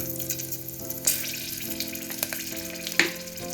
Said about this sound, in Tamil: இந்த ஆயில்லையே நம்ம புளியை போட்டுக்கலாம்